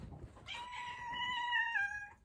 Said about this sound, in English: here comes the cat again